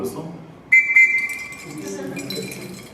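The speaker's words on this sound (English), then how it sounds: "this is a bobby whistle" A British police bobby whistle gives a sharp, sustained shrill tone with a brief warble, blown close and loud after a moment of quieter background sound.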